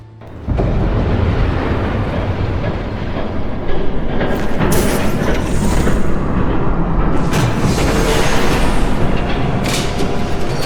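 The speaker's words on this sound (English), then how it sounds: "There's a train coming." A train rumbles past loud and close for the whole stretch, a dense continuous roar with clattering bursts and rising intensity midway, no talk over it.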